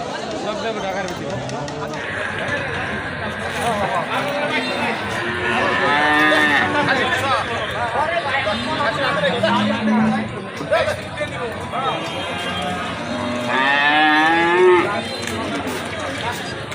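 A large cattle market at Lauhati in Tangail, where cows moo repeatedly, some long and drawn out, over a dense hubbub of people talking and shouting nearby, with livestock shuffling in the busy crowd.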